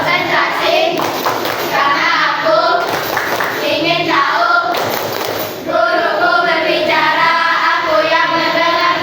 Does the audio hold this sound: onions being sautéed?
no